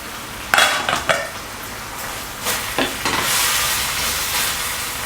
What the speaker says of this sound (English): Add back the beef to the pan.